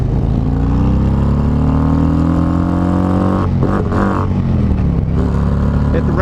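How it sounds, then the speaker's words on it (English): A 2019 Road Glide Special motorcycle's engine revs hard and loud up against the rev limiter, its pitch climbing before a stuttering, choppy cut-out and recovery as the bike runs on with steady road noise. "Hit the rev limiter."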